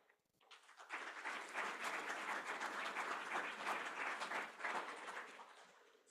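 Sustained audience applause at a weekly meeting welcoming a new member, steady dense clapping from a room of people that swells quickly, holds for several seconds, then tapers.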